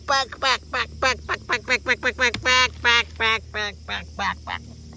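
A voice imitates a duck, giving a rapid series of nasal quacks in short bursts with brief pauses between them, close and fairly loud.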